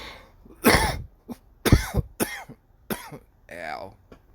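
Someone coughs after a hit from a banana OG vape pen: several harsh, close coughs in uneven bursts, with short quiet gaps between them.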